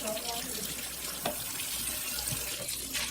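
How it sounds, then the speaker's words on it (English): Hot water running from a kitchen tap into a drinking glass, a steady hiss of pouring water throughout, with a faint voice at times underneath. "What we're gonna do is fill up this glass with hot water."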